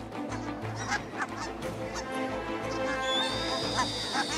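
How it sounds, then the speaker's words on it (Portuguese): Geese honk repeatedly on the Arctic tundra while chasing off owls, with overlapping calls at varied distances over a steady outdoor background. "Apercebendo-se do perigo, os gansos começam a perseguir os bufos."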